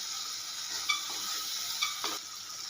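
Chilies sautéing in a pan give a steady close-up hiss of frying, broken by a few short scrapes as a spoon stirs through them.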